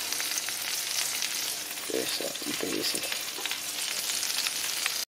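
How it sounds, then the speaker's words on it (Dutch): A hamburger frying in a pan gives a steady, close, full sizzle that continues throughout, with brief stirring or scraping noises partway through and a short murmured remark from a voice over the hiss. "We zijn ondertussen eh, live en een hamburger aan het bakken."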